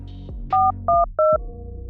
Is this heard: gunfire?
no